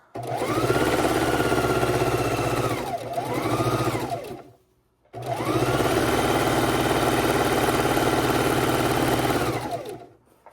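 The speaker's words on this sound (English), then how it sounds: "And we're going to sew those 2 sides right together." A sewing machine stitching quilt pieces together for four-patch and flying geese blocks, running in two long steady whirring bursts separated by a brief silent pause, close and fairly loud with no voices.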